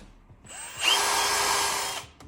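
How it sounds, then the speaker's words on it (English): A power drill spins up and bores steadily into a metal wheel dust shield for about a second, a high whining grind, close by, then stops. "we'll take a drill bit, drill us a hole"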